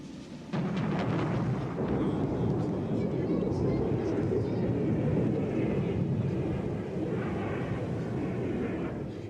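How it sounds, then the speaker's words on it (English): Military aircraft attacking a convoy during the South African Border War in Angola in 1982, a sudden loud roar that swells into a sustained rumbling, booming din lasting several seconds. "In the early morning hours, this convoy was attacked by South African planes."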